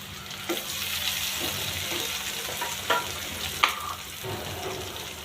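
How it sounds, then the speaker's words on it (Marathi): Onion, green chilli and tomato fry in a pan with a steady close sizzle. Occasional stirring clinks and scrapes sound over it, and no one speaks. "कांदा असा थोडा मऊ झाला की त्यात कापलेली हिरवी मिरची आणि टोमॅटो टाकून घेऊया"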